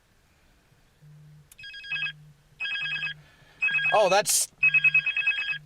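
A Cartel CT-1000 Bluetooth car kit rings for an incoming cell phone call, repeating bursts of an electronic ring tone separated by short gaps, close and clear, with a brief spoken remark and a squeaky noise between rings.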